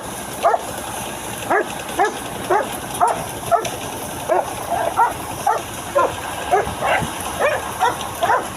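Big Rottweilers in a garage bark repeatedly in a steady string of short, punchy barks over a noisy background, fairly close.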